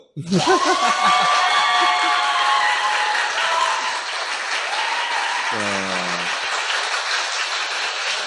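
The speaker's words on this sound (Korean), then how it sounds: "박수!" Broad applause and cheering from a crowd at a Korean political rally, loud at first then settling into steady clapping, with a brief low horn-like tone near the end.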